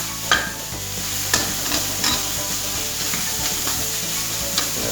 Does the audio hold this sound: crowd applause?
no